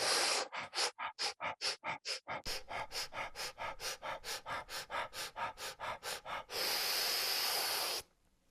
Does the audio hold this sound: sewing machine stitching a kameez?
no